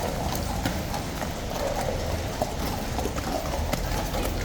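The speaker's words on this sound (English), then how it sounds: "I was just thinking I can hear hooves. Police horses, surely." Police horses' hooves clip-clop on soaking wet ground, a steady run of hoof strikes close by under steady rain-soaked background noise, with some faint voices.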